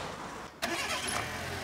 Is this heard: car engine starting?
yes